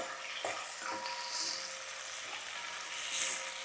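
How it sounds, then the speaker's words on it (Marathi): Soft, steady sizzle of onions frying in oil in a pan until soft, with faint crackles and a few light stirring clicks, heard alone without talk. "कांदा आपल्याला चांगला नरम करून घ्यायचा आहे"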